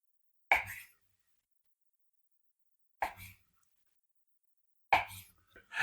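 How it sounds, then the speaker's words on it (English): A knife chops kielbasa sausage into 1-inch pieces, three separate sharp cuts spaced a couple of seconds apart, close and clear against silence. "we're going to take the kielbasa and we're going to put it into 1-inch pieces"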